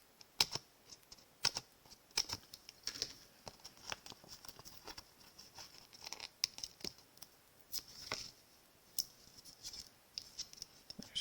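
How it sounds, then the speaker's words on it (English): Small craft snips cut paper dimensional adhesive pieces, producing sharp, irregular snipping clicks close up and quiet against a near-silent background. "so I'm just using my snips"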